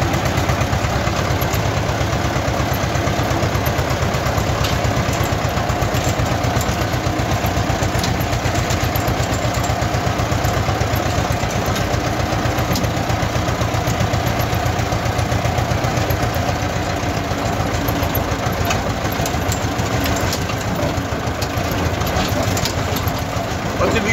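A tractor engine idles and chugs continuously at close range during potato planting, a low throbbing drone with a regular mechanical pulse throughout.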